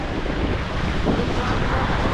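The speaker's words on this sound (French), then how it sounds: "C'est revenu le vent et ça fait plaisir." Steady, loud wind rushes at sea aboard a sailboat crossing the Bay of Biscay toward the Azores, a constant broadband roar of gusts and buffeting against the microphone mixed with wave wash, with no pause across the stretch.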